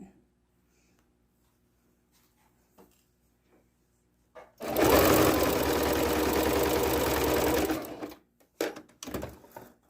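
A sewing machine runs a quarter-inch seam on a quilt-as-you-go block in one steady, close burst lasting about three seconds, followed by a few short clicks and taps after a quiet start.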